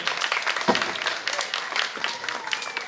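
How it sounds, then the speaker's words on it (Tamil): An audience at a 2024 Pongal festival gathering in Thirumangalam applauds, a steady, dense burst of clapping lasting a few seconds with a faint voice mixed in. "பேசிய சுவாதிக்கு எல்லாரும் கரகோஷம் பண்ணுங்க ஒரு நிமிஷம்"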